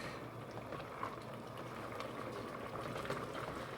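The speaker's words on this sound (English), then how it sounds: "We'll carry on with a hard boil for about a minute." Onion jam with sugar at a hard rolling boil in a pot, a steady dense bubbling and seething that runs evenly throughout at low, close volume with no talking.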